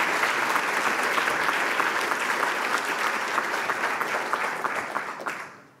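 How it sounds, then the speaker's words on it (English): Sustained applause from an audience at an award ceremony for a collegiate student prize winner, steady and full for several seconds before tapering off at the end. "Yes, we can clap, please"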